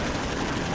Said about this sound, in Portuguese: O primeiro Mirage recorre ao canhão de longo alcance.